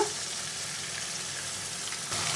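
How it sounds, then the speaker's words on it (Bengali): Mutton pieces coated in garlic and ginger paste sizzle in a hot pan for a potato-and-mutton curry, a steady, close, unbroken frying hiss throughout with no voices. "এখন মশলাটাকে ভালো করে কষাবো"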